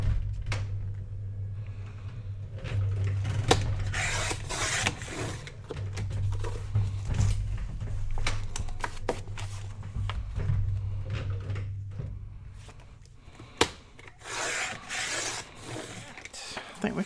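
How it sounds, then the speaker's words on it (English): Paper pages for a hardcover journal being trimmed together in one stack, giving repeated rasping, rubbing cuts and handling noises over a steady low hum, with a sharp knock near the end. "So I'm going to try to stick them all in here and trim them all at one time."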